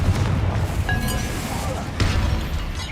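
Fiery Confringo spell blast in Hogwarts Legacy, a burst of booming, crackling energy flaring twice over a dense, loud backdrop of game effects and a voice.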